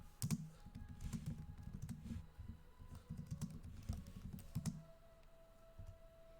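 Typing on a computer keyboard during a craft-and-chat livestream, a close, quick patter of key clicks in bursts that pauses briefly near the end.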